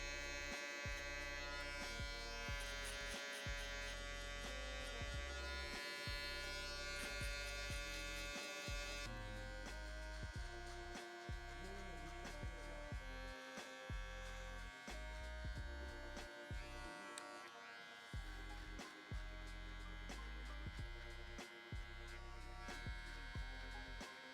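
An electric shaver buzzes continuously close up while blending a beard into a bald fade, its motor tone shifting slightly as it moves, with brief dips in the hum throughout.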